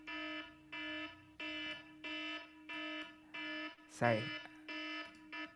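A timer app alarm beeps in steady, evenly spaced bursts, loud and close, while a voice briefly speaks over it.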